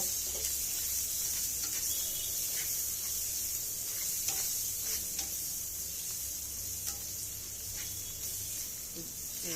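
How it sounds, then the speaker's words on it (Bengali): Turmeric powder being stirred into dried lotia fish as it cooks, giving a continuous bright hiss and sizzle with faint stirring clicks, steady and close throughout. "হাফ চা চামচ হলুদের গুঁড়ো, ভালো করে নেড়ে মিশিয়ে নেব।"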